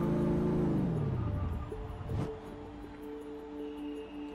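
A 1990 Chevrolet Camaro IROC-Z engine in the Forza Motorsport 6 racing game winds down from a loud rev, with a quick whooshing pass near the middle, then settles into a steady idle under faint background tones.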